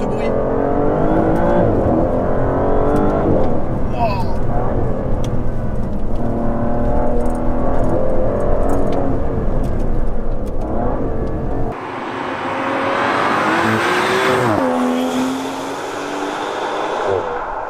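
Aston Martin DBS Superleggera with a 725 hp engine accelerating hard, a loud, continuous rising engine roar climbing through the revs with a brief shift dip near the end, close to the car.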